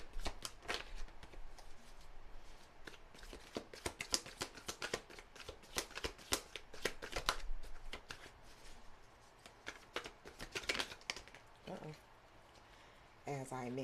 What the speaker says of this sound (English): as I mix up all the cards